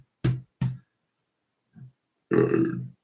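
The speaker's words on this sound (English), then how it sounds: "1 second, got a burp" A person burps several times: two short close burps come in quick succession, then a faint small one, and finally a longer, drawn-out belch that is the loudest of the series, with silence in between.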